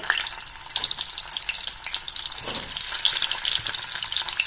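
Potatoes frying in plenty of hot oil, a dense crackling sizzle that stays busy and even throughout, with faint stirring touches now and then, close and fairly loud, without talking.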